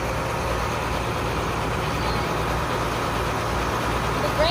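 Farm tractor running at a Montana wheat farm, powering a grain loader auger beside a grain bin, a loud steady engine drone with a constant low rumble, unbroken throughout.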